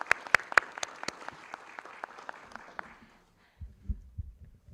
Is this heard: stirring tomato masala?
no